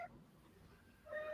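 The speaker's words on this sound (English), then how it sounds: "There's a cat from out of nowhere." A cat meows twice during a livestream, a short cry at the start and a longer drawn-out one at the end, both clear against a quiet room with no talking.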